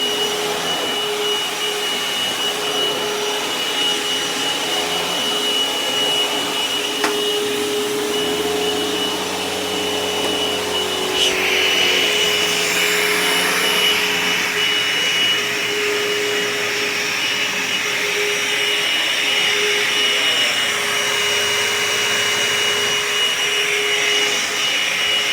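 A Dirt Devil Envision Turbo vacuum cleaner runs steadily on bedroom carpet, a loud continuous motor whine with a shift in pitch and texture partway through as the head touches the pile, with no voices.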